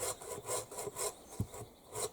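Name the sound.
sawing wood with a Gerber saw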